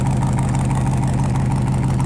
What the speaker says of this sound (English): You can hear a little growl from them already.